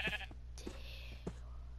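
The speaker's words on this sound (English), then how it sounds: "Oh, sheep." Sheep bleating in the Minecraft video game, a few short bleats spaced through a brief stretch over a steady low background hum.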